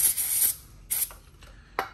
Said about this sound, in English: Take some brake cleaner, and if it's far away from it, you can just spray on